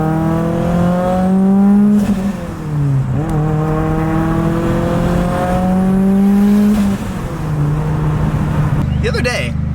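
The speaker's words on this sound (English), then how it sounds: "This car is so loud." Mitsubishi Evo X with a wide body kit revving hard up close, several loud rising and falling engine sweeps over nearly ten seconds with brief dips between pulls.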